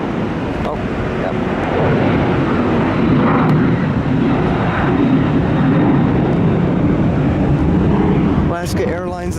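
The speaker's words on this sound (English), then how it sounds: "There's definitely some takeoff happening." An airplane takes off at SeaTac Airport, heard as a steady, moderately loud jet roar with some wind buffeting, and a voice cuts in briefly at the very end.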